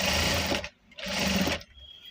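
A sewing machine stitching the sleeves of a readymade blouse runs in two steady bursts, motor whirring and needle buzzing close up, with a brief pause between them.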